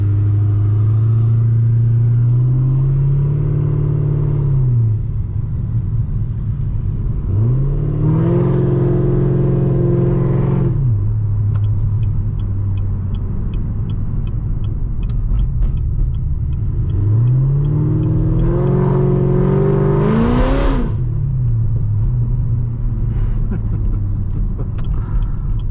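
A Chevrolet Camaro ZL1 on an evening drive gives a loud, steady exhaust drone, swelling into two strong revving surges as it accelerates before settling back to a deep cruising rumble.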